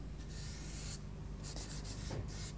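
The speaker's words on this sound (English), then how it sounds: "That'll rub in with fingers." Fingers rubbing pastel into paper, producing soft close scratchy rubbing strokes in a few repeated sweeps, quiet and alone.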